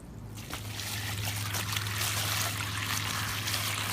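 Fresh water trickles and splashes steadily into a small toy pool during a rinse of painted toys, a continuous close, bright pouring wash with a low steady hum beneath and no talking.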